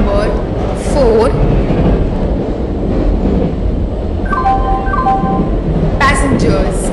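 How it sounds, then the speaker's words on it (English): A passenger express train on the Bharuch to Anand route pulls into platform 4, with a steady rolling rumble and wheel noise throughout, brief tonal chimes near the end and a public-address voice speaking over it. "Express is arriving at platform number 4."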